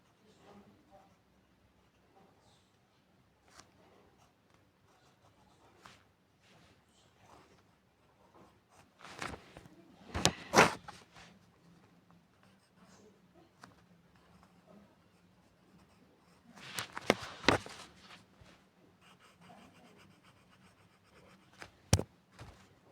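Pen or pencil drawing Squid Game characters on paper: quiet scratchy strokes with several louder bursts of scribbling, close and intermittent, with no talking.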